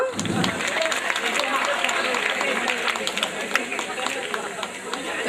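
An audience claps at a school SSC farewell ceremony, a dense, continuous patter of applause with crowd chatter mixed in throughout.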